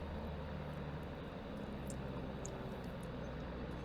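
Steady, moderately quiet aircraft engine drone from the video game Microsoft Flight Simulator, a continuous even hum with no break across the whole span and no voices over it.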